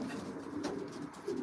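Racing pigeons coo softly in a loft, a low continuous murmur of overlapping calls with a slightly louder coo near the end, with no talking over it.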